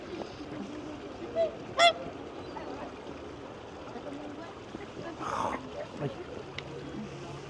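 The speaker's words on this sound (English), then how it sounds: "The white swans are beautiful." White swans honking outdoors during a walk around Reykjavik, with one or two short honking calls just before the two-second mark over a steady outdoor hum and faint background voices.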